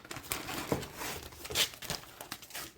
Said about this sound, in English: let's get it out of the package. A pair of scissors there. We'll break into this.